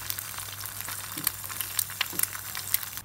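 A fried egg sizzling in a pan for a homemade burger, a bright, crackling fry heard close up with scattered popping spatters over a faint low hum and no talking.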